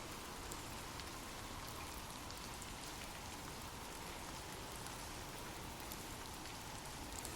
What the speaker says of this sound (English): Imagine gentle raindrops falling softly on leaves, washing away the echoes of history's struggles.